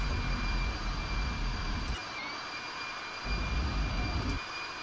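Steady roar of jumbo jet engines during a carrier landing in a flight video game, loud and continuous, dipping and swelling twice as throttle changes.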